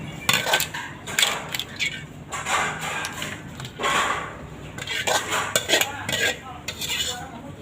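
Stir-fried clams with roasted chili paste are scooped from a pan onto a plate, making repeated loud metal-on-pan scrapes and clatters in uneven bursts, close by, with no talk.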